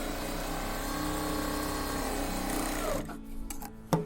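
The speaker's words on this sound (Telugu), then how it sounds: "ఇలా వేసి మనం ఫస్ట్ స్టిచ్ చేసుకోవాలన్నమాట" A sewing machine stitching a blouse shape belt, running in a loud, steady mechanical whir close by for several seconds, then stopping, followed by a few soft handling clicks and a knock.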